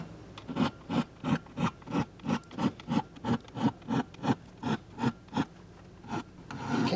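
Repeated swipes along the strings and fretboard of a Yamaha guitar during a restring, about fifteen evenly spaced raspy rubbing strokes, close and steady, with a few slower ones at the end.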